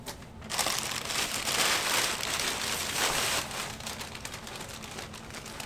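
Packing paper rustles and crinkles close by while a Regal Robot Grail tablet is unboxed, a continuous crumpling crackle that swells and eases over several seconds with no talk.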